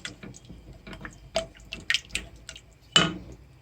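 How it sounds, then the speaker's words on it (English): Water splashes and drips into a pan of vegan Rogan Josh, a run of close, irregular liquid spatters and trickles with a louder splash near the end, alone without talk. "That is 250 ml of water I've just added to that."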